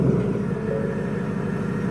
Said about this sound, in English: We'll start it up.